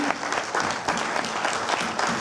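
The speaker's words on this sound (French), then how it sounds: "On peut l'applaudir, personne n'applaudit." Brief burst of audience applause, dense clapping from a crowd at close range.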